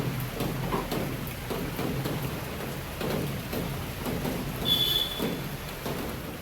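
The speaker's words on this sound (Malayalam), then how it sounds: "നല്ല മഴ." Heavy, steady rain falls outdoors during a day-long downpour, a dense continuous wash of drops with faint low rumbles underneath, holding even loudness throughout with no voices.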